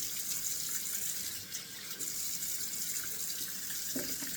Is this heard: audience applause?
no